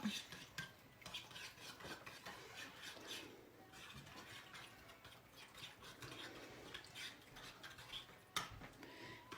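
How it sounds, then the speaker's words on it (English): Egg being stirred into dry batter in a bowl with a spoon, a quiet, close series of uneven scraping and clinking strokes of utensil against dish. "So we're going to break the egg, get everything in there mixed up."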